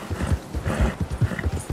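A nervous horse in Red Dead Redemption 2 clip-clops along in quick, uneven hoofbeats, close and fairly loud, with no talking over them.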